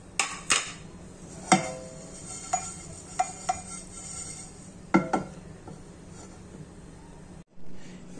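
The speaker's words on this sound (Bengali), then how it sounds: "এই সব কটাকে একটা শুকনো কড়াইতে নিয়ে একটু নেড়ে চেড়ে ভেজে নেব।" Whole coriander, cumin, cardamom and cinnamon being dry-roasted and stirred in a dry wok, heard as scattered sharp scrapes and clinks of a utensil against metal, close and fairly quiet, with gaps between strikes.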